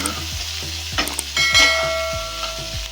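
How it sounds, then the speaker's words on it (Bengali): Boiled chickpeas are stirred in a hot frying pan, a spoon scraping in repeated strokes over a steady sizzle, loud and close with no talk. "ছোলাগুলোকে দিয়ে দিলাম সব কিছুর সাথে নাড়াচাড়া করে নিচ্ছি"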